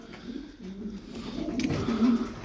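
Pigeons coo softly nearby, low murmuring calls rising toward the end, with no voices.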